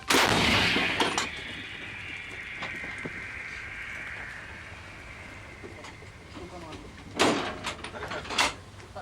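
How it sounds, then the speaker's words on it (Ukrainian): An artillery cannon fires a loud burst that opens the clip, followed by a long rumbling decay with a faint whine, then two more sharp reports near the end. "Гармата. Постріл."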